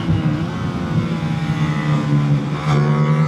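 A racing Suzuki motorcycle accelerates hard around Hooton Park circuit with a loud, steady engine drone that rises in pitch, heard up close from the bike.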